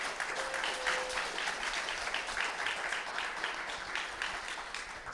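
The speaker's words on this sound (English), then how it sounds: "A big applause, please." A conference audience at HiveFest in Split, Croatia claps together in a steady, even wash of applause, moderately distant and continuous throughout with no talking over it.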